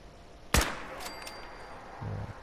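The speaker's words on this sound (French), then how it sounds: "Je vais en sniper un d'ici." A single sharp sniper rifle shot in the video game Fallout 4, loud and close, with a ringing tail, followed by a short low rumble.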